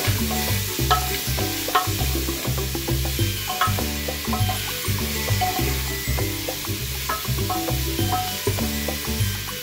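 Vegetables for a mutton stew frying in a pan and stirred over and over, with a steady sizzle and rhythmic scraping strokes, loud and close, no voices.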